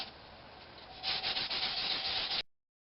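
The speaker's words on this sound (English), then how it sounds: "I've got her all sanded to 400 grit sandpaper" Sandpaper rubs over a natural edged oak bowl, a close, steady scratchy hiss that grows louder and rougher midway before stopping abruptly.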